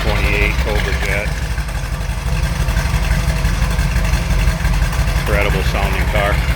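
A 1969 Ford Mustang Mach 1 with a 428 Cobra Jet V8 idles loud and close with a steady, throaty rumble, while someone talks over it throughout.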